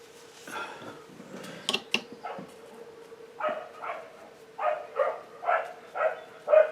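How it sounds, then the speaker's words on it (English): Dogs bark back and forth in the distance, a handful of yips and whimpers followed by a rhythmic run of about seven moderate barks, heard alone against quiet surroundings. "doggies have started talking to each other"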